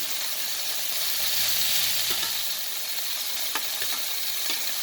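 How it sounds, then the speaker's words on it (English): Loud continuous frying sizzle with a few soft clicks and scrapes as pieces are turned in the pan, no voices. "So right now we're just flipping the chicken in our pan."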